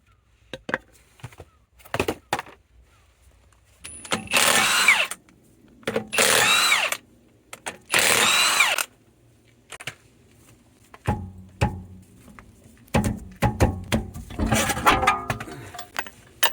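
A power tool works on a BMW E90 wheel, firing in short, loud bursts of one to two seconds separated by pauses and scattered clicks and knocks.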